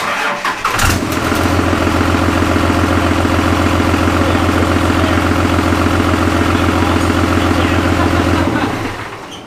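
A Cummins diesel engine fitted in a Jeep YJ starts at its first start-up and then idles loud and close, with a steady, throbbing diesel rumble that continues evenly for several seconds before it fades at the end.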